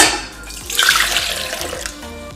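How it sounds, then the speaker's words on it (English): Warm water poured into a stand mixer bowl while making pretzel dough: a short, close, steady splashing pour that swells and then continues for about two seconds, with no talking. "So I'm gonna start by pouring in my warm"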